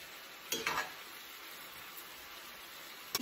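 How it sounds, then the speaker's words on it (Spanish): Chicken pieces browning in a pan with other ingredients give a steady, soft sizzle throughout, with a couple of brief stirring scrapes near the start and end. "mientras que se esté dorando todo esto aquí"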